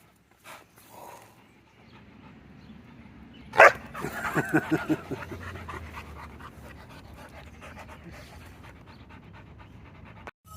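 A puppy pants rapidly and lets out a few yips and whimpers, close and fairly quiet, with a brief sharp sound and faint voices in the background.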